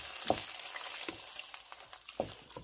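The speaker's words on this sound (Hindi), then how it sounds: "तो अब इसको तड़का लगा दिए।" Tadka tempering sizzles in a pan while cooking broccoli saag with browned onions, a steady frying hiss broken by a few sharper crackles and pops, close and moderately loud with no talking.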